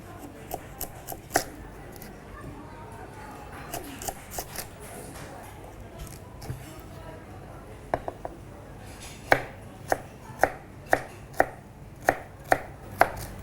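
A knife cuts courgettes on a board with irregular knocks at first, then settles into a steady run of sharp, evenly spaced chops, close and clear over a quiet room.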